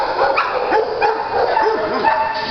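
A three-year-old, 44-pound dog yips and whimpers in short, repeated bursts, fairly close, with soft voices in the background.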